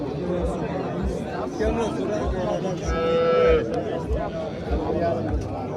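A cow lets out a single drawn-out moo amid steady crowd chatter and background bustle at a livestock market.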